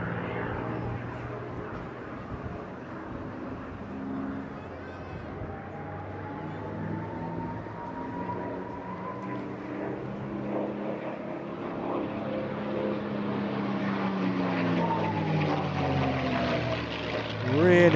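A North American P-51 Mustang warbird flies past at an airshow, its piston engine a steady, throaty drone with a gradual pitch shift, growing louder toward the end, with a faint voice underneath.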